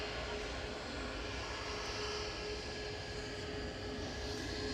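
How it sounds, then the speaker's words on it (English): A Ryanair Boeing 737 MAX 8-200, operated by Malta Air, departs as a steady, loud jet engine roar holds evenly throughout, broad and constant with a faint high whine on top. "we've got a MAX 8-200, 9H VVD, operated by Malta Air for Ryanair. Departing with flight 2070 across to Alicante"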